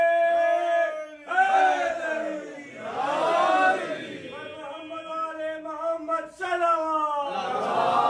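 A crowd at a religious mehfil gathering chants slogans in unison, loud rhythmic call-and-response bursts of massed voices with pauses between phrases.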